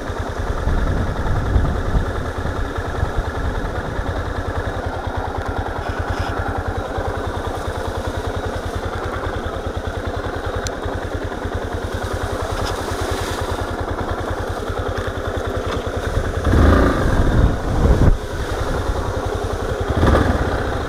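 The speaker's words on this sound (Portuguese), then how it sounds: "já desceu da moto, Humberto." A Yamaha Ténéré motorcycle engine idles steadily on a trail with a low, continuous rumble and clatter, holding a constant level throughout with a brief swell near the end.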